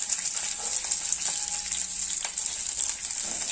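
Red chili, onion and curry leaves fry in oil, a steady close hiss and crackle with bright spattering that keeps going without a break and with no voices.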